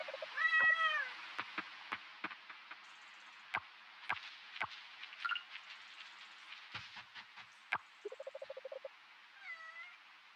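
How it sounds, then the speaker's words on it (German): A kitten in the farming life game Coral Island meows several times with clear, high-pitched calls, mixed with short ticks and game clicks and a brief run of rapid chirpy blips near the end. "Dieses Kätzchen."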